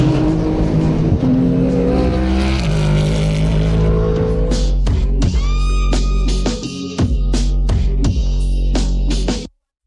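Race cars at a 6-hour endurance race in Japan scream past on track, a loud wash of engine roar followed by sharp pass-bys and rising and falling high-revving whines that cut in and out, with brief gaps between the cars.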